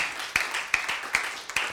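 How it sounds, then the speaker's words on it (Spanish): Congregation in a church clapping in four short, sharp bursts spread across a couple of seconds, moderately loud over a steady background hiss. "Esos 4 aplausos estuvieron buenos. Those 4 applauses were good."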